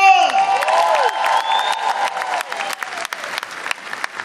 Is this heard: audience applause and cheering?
yes